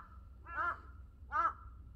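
Two loud, harsh crow caws on a mountain peak, spaced about a second apart, each a raspy harmonic call standing out clearly over a faint low wind rumble, with no talking.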